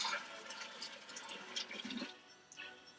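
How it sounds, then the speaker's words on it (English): Sweetened tea with cane sugar poured into a big jar for kombucha, a close, steady watery splash and trickle running for about two seconds and then tapering off. "Just pour it on in there."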